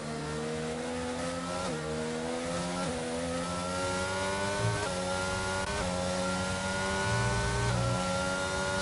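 F1 race cars in the F1 22 video game scream past one after another, high-revving engines climbing through gears with repeated upshifts, loud and continuous throughout.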